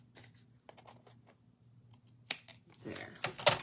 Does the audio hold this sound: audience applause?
no